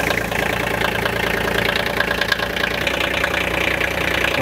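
A Marathon mastic mixer engine runs at idle after start-up, giving a steady, close, fairly loud rumble with a fine knocking rhythm and no speech over it.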